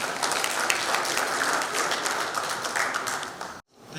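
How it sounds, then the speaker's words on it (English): Dense applause from a conference audience at an inaugural function in Goa, steady and fairly loud throughout, then cutting off abruptly near the end before picking up again. "Let's give him a round of applause,"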